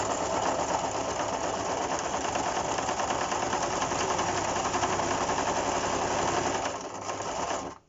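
Sewing machine stitching fabric for cloth masks, a fast continuous mechanical whir running steadily for several seconds, close and fairly loud, easing slightly just before it stops.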